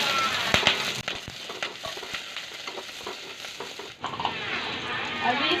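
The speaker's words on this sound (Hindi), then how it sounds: "इस पे अभी मैं प्याज और हरी मिर्ची डाल दूँगी।" Onion and green chili frying in a pan after something has browned to golden, a steady close sizzle and crackle with stirring scrapes, under soft background sounds.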